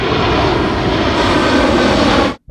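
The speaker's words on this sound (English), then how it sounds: "I can hear an aeroplane." Loud, steady roar of an aeroplane engine droning overhead, cutting off abruptly at the end.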